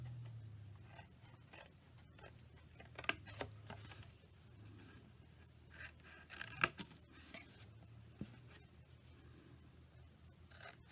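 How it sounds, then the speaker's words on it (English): Scissors snip corners out of paper for a stacked drawers craft, faint close cuts and rustles scattered through the quiet with a few sharper snips. "Now we're going to cut these corners out."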